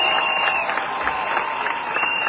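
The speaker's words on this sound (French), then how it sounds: "C'est le représentant du père Paul Mbabesol que je vous demande d'applaudir très fort." Applause from a crowd at a Gabonese civil society political gathering, a steady wash of clapping lasting a couple of seconds at moderate volume.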